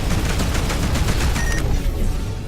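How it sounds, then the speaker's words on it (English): Rapid rattling spaceship cannon fire in a starship simulation video game bursts in a dense, loud stream for about a second and a half, then cuts off into a fading rumble. "Let's fire our rapid cannons"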